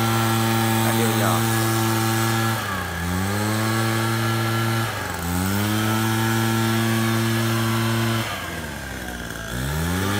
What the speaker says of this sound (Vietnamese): Chúng ta hãy cùng xem công dụng của máy thổi lá Takeo như thế nào ha. Máy thổi rất mạnh